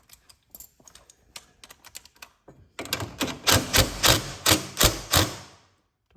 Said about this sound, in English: Torque that down.